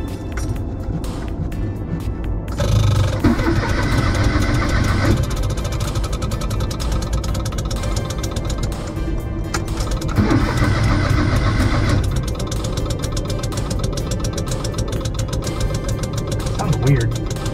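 An old pre-Civic Honda coupe engine cranks and catches, running rough and uneven through two louder bursts of cranking and revving, close and loud throughout.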